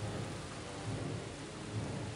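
Steady rain with low rolling thunder from the strategy game Earth 2150, a dense continuous wash with rumbles swelling twice, loud and close with no voices.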